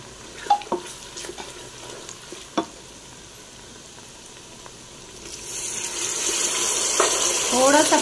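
Spices stirred into onions frying in a pan, with a few clinks and scrapes of a utensil early on, then a sizzle that swells to a loud steady hiss near the end, close by.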